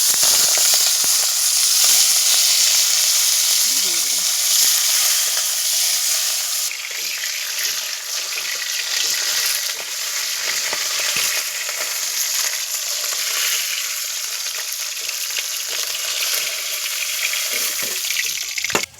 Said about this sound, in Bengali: এই মাছগুলোকে আমি নুন হলুদ মাখিয়ে ভেজে নেব।